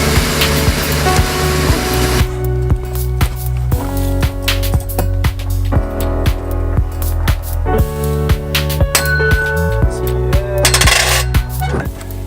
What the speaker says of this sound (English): it might just be a kind of a stuck valve or something like that. But I can hear it go. I hear that little like little tick.